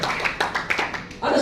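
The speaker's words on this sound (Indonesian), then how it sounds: "Tepuk tangan bagi Allah kita." A church congregation at a Sunday service claps rhythmically in quick, even beats, mixed with a voice speaking over it.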